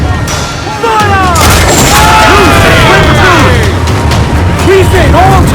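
Ship cannons firing in Assassin's Creed Black Flag: a loud, continuous rolling barrage of heavy booms at sea, with shouted crew voices and whooshing projectiles layered over the roar.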